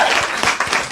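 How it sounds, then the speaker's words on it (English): A short hand-clap sound effect, a second of bright, dense clapping with a few sharper individual claps standing out, loud and without talk. "hand clap"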